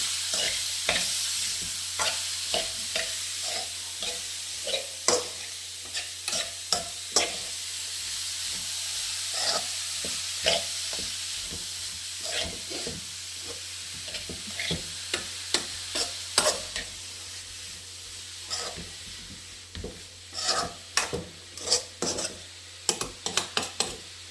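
Radish thoran being stirred in a frying pan: a steady soft sizzle runs underneath while a spoon scrapes and knocks against the pan in irregular bursts, close up, with no voices.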